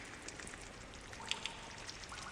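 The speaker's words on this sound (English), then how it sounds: "It's kind of really loud, the rain effects." Heavy rain falls in the video game Lies of P on a rainy night at Krat Central Station, a steady hiss with scattered drop splashes and faint game effects.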